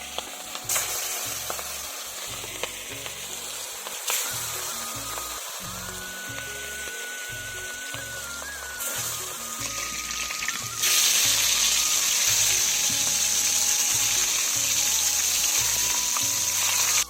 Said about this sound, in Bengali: মাছ ভাজার জন্য তেলটা ভালো সুন্দর করে গরম করে নিতে হয়